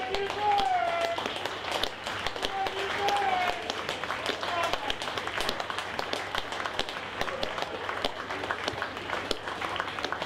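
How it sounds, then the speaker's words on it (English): A crowd applauds the Coventry Bears rugby league team at a match against North Wales Crusaders, with steady clapping throughout alongside an announcer's voice and some whistles. "Round of applause for Coventry, please."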